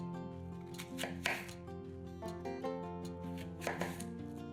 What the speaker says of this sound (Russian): Все яблоки разрезаем на 4 части.